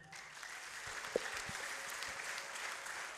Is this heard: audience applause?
yes